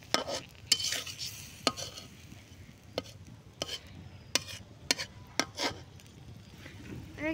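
Food is stirred in a sizzling pan with a little water added, and the utensil makes repeated sharp scraping knocks against the pan over a continuous low frying hiss.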